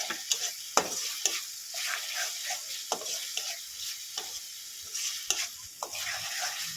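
Fish curry masala for doi katla, stirred and fried in a pan over a low flame: repeated scraping spoon strokes over a steady soft sizzle, close and without talk.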